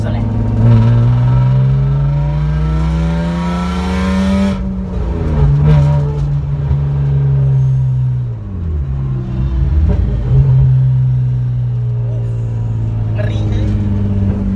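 1996 BMW E36 323i drift-spec car, engine revved in loud rising and falling sweeps from a deep idle rumble, with a few quick blips; people talk over it.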